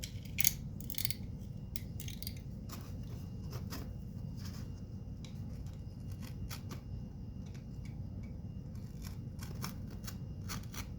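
Small scissors snip through a cardboard toilet paper roll for a 1:12 scale miniature roast pan, a series of sharp close crunching cuts at an irregular pace over a low steady background hum.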